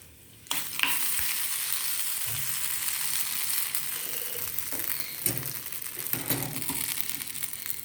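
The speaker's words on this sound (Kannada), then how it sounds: "ಒಂಚೂರು ಸಾಸಿವೆ, ಕರಿಬೇವು ಸೊಪ್ಪು ಮತ್ತು 1-2 ಒಣಮೆಣಸಿನ್ಕಾಯಿ ಹಾಕ್ಬಿಟ್ಟು ಒಗ್ಗರಣೆ ಕೊಡ್ತೀನಿ" Mustard seeds, curry leaves and dry chillies crackle and sizzle in hot oil in an old iron pan, a sudden burst of frying followed by spattering pops and stirring scrapes at moderate level.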